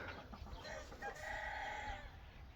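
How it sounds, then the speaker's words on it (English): A rooster crows once, fairly faint and a little distant, over steady outdoor background noise. "That was a rooster."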